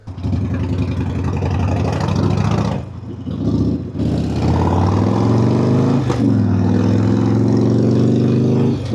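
A Harley-Davidson motorcycle engine running loud and close, with a deep rumble rising in revs, a brief drop-off, then sustained acceleration through gear changes.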